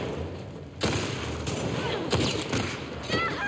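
Gunfire in The Last of Us Part 2 Remastered: a few loud, sharp shots ring out over a dense, noisy game soundscape, arriving at irregular intervals with a broad burst of noise after each one.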